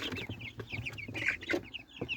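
Free-range chickens cluck in short, irregular bursts, several close birds overlapping in quick, chattering calls against a quiet farmyard background, with no voices.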